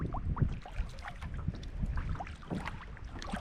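A kayak paddles across a Swedish lake, with soft close dips and trickling splashes of the paddle at an irregular rhythm over faint wind, fairly quiet and with no voices.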